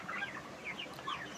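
Thirty-day-old farm chickens cluck faintly in scattered short calls. Fans run in the hot poultry shed, giving a steady wash of background noise.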